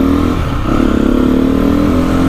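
Husqvarna 510 SMR supermoto motorcycle accelerating hard, its loud close engine note rising and pulsing with rapid revving, no talk over it.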